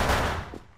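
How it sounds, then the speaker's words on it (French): A single pistol shot in the video game Wolfteam Reloaded, a loud, sharp burst that decays over under a second. "J'ai ce pistolet, c'est la première fois que je le teste."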